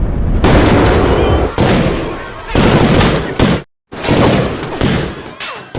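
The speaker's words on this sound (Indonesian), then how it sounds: "Alhasil terjadilah tembak-menembak antara polisi dan gangster di sana" Gunfire crackles in a film shootout between police and gangsters, with dense bursts of shots broken by short gaps and one abrupt silent pause. The bursts are loud and close, mixed with shouting.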